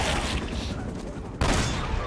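Gunfire rattles at water monsters in Uncharted: Drake's Fortune, a dense volley of shots with a fresh burst partway through, under someone talking.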